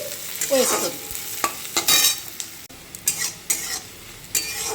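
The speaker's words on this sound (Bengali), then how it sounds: "তো চলো পেঁয়াজটা ভাজা অবধি লাল লাল কালার আসা অবধি" Onions are stir-fried in a pan over low to medium flame: a soft sizzle runs underneath repeated, close scraping strokes of a spatula, with no talking.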